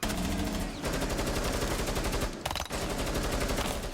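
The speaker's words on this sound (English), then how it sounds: "Shots fired." Rapid bursts of gunfire in a hostage-rescue operation, loud and nearly continuous over four seconds with a brief break partway through.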